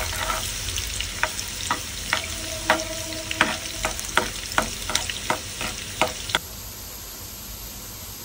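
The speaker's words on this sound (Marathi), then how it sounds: "तर तेल तापलं आहे बऱ्यापैकी, तर कांदा टाकून घेते" Chopped onion sizzles in hot oil for a Malvani-style egg curry, with a continuous frying hiss broken by repeated sharp knocks of a spoon stirring in the pan, close and fairly loud, then the stirring stops and only the sizzle remains.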